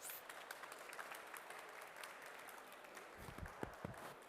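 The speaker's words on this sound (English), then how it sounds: "one more big applause then for Pau." A conference audience gives a final round of applause for a panel speaker on the stage, faint and distant clapping that thins out, with a few louder nearby knocks and shuffles near the end.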